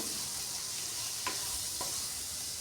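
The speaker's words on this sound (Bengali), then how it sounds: "সব মশলা দিয়ে এখন কিছুক্ষণ কষিয়ে নেব।" Spices being sautéed in a pan make a continuous sizzling hiss, with two brief scraping stir strokes standing out partway through.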